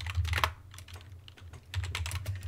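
Someone types commands on a computer keyboard in an Ubuntu Linux terminal, a close, steady run of quick key clicks with a short pause in the middle.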